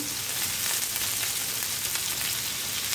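Chopped onion and green chilies sizzle steadily in a hot pan, a close, continuous hiss of frying with no talking.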